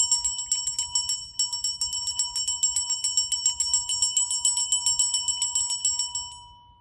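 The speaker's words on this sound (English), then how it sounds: "The bell has rung." A bell rung during a spiritual cleansing ritual: a bright, clear strike repeated about two dozen times at an even, quick pace, its ringing tone sustained between strikes and fading away alone at the end.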